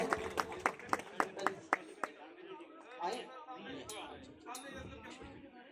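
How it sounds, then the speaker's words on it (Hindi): An audience at a welcome event for IAS toppers gives a short burst of clapping, about eight claps over two seconds, before it fades into murmuring voices and talk. "जोरदार तालियां"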